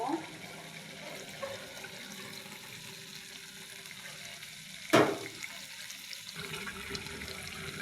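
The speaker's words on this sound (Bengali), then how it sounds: "এখন আমি ঝোলের পানি দেব" Water is poured into a simmering fish and eggplant curry to make the gravy. A short, loud splash stands out midway against steady background noise, with talk nearby.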